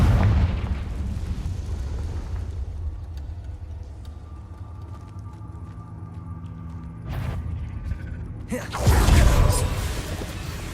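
A Confringo fire spell exploding in Hogwarts Legacy, a sudden loud burst near the end over quieter game ambience, preceded by a sharp shorter crack, with a low rumbling effect at the start.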